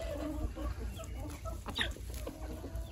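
Free-range native country chickens cluck close by while grazing on green grass, soft repeated clucks over low rustling and pecking, with a brief louder call near the middle.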